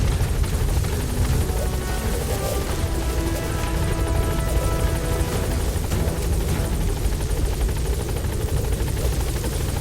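A helicopter in Metal Gear Solid V roars loud and close with a steady, thumping rotor drone running continuously.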